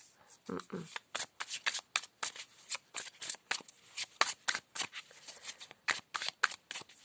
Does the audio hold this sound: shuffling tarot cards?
yes